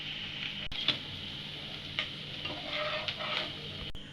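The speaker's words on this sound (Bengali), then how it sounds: "বাকি নাস্তাগুলো আমি একইভাবে ভেজে নিচ্ছি।" Snacks fry in oil in a pan, giving a quiet, steady sizzle with a few sharp clicks and scrapes from a stirring utensil.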